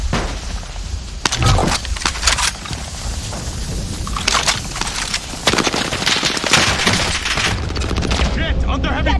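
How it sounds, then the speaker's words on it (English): Heavy automatic gunfire and explosions from Call of Duty: Warzone, loud and continuous bursts of rapid shots layered with booms, with in-game voices talking over the chaos. "Under heavy fire here!"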